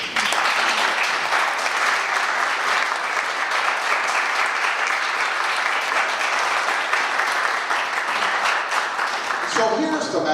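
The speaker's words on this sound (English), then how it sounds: "So guys, could you stand so that we can applaud you?" At a Veterans Day ceremony, an audience gives Vietnam-era veterans long, loud, sustained applause, dense clapping that continues without a break and tapers off near the end as a voice begins to speak.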